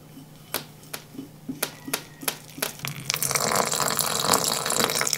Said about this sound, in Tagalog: Nagbuhos lang ako dito ng konting tubig.